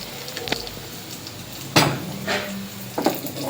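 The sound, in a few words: tadka tempering with garlic and curry leaves in pan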